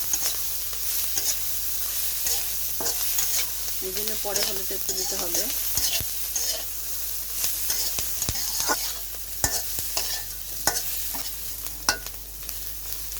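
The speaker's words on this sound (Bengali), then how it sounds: "এভাবে আমরা নাড়াচাড়া করে পেঁয়াজটা ভেজে নেব সাথে মাছটাও ভেজে নিচ্ছি" Bata fish and onions fry with salt in a kadai, making a continuous close sizzle broken by frequent spatula scrapes and clicks as they are stirred, while someone speaks briefly.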